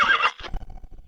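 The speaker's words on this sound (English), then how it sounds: "Another horse has been run to exhaustion." A horse whinnies in a shrill, close burst, then snorts and shuffles lower as it tires after a hard run.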